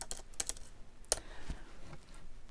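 Scattered key presses on a computer keyboard, a few sharp clicks in quick uneven clusters, fairly quiet and close.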